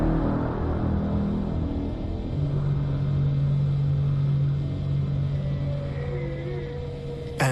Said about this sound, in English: And then there was what we now understand to be the priming of the sonar weapon.